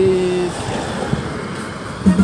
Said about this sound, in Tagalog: Ayan guys, yung dagat niya guys.